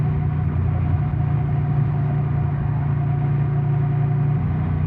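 Steady, loud mechanical drone of a Honda Transalp adventure motorcycle engine during a test ride, an even low hum with a faint tonal whine running unbroken throughout, no voices.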